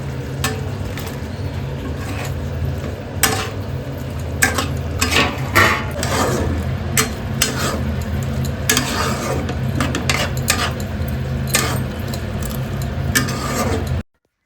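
Fish pieces go into a hot pan and sizzle in a steady hiss, broken by repeated clinks and scrapes of a utensil against the pan.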